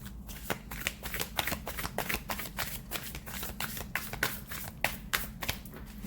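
A deck of tarot cards is shuffled by hand, a quick run of crisp riffling flutters repeating at a steady pace, close and clear with no talking.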